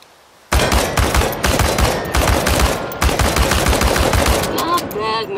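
Automatic weapon firing in rapid sustained bursts at cans in Chernobylite, loud and close, with short pauses between bursts and clinking of struck cans at the end.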